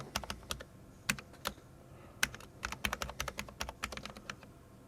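Rapid, uneven keystrokes on a computer keyboard as an email address is typed into a Microsoft Teams Room system setup screen, close and crisp, with short pauses between bursts and no talking.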